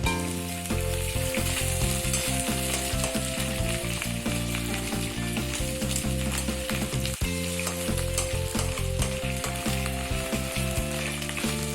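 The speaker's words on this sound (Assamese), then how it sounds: "অলপ দেৰি ঢাক মাৰি ফ্ৰাই কৰি ল'ম, কাৰণ মাছৰ কণীখিনি গালৈ ফুটি আহে" Fish eggs fry in a pan in a steady, loud sizzle that crackles without pause throughout, with music playing underneath.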